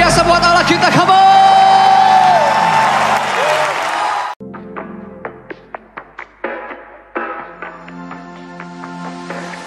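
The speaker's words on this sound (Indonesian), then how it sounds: "Lebih lagi sorak-sorak kemuliaan yang luar biasa buat Allah kita" A church congregation at a Sunday worship service cheers and applauds for God, a loud, dense burst of clapping, whoops and shouts that fades after about four seconds into scattered claps and sparse taps under a sustained musical tone.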